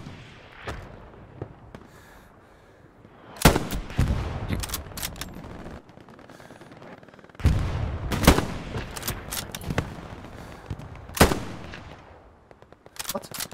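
Gunfire in the Hell Let Loose video game, with several loud, sharp shots in scattered bursts, some close and some further off, over a constant low battlefield rumble.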